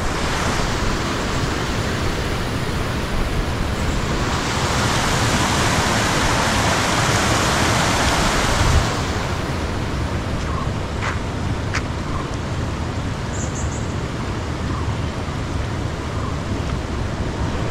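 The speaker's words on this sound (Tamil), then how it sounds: "இந்த இடத்துல இந்த தண்ணி சவுண்டும் இங்கே இருக்க பறவைங்க பூச்சிங்க சவுண்டு மட்டும் தாங்க" Steady rushing water from a waterfall fills the scene, broad and constant, with a few faint chirps of birds or insects poking through, at Pullaveli Waterfalls near Thandikudi, Kodaikanal.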